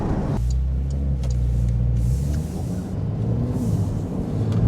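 A 2019 Porsche 911 (992) Carrera S engine rumbles deeply at idle, then settles into a steady throaty hum with slight shifts in pitch.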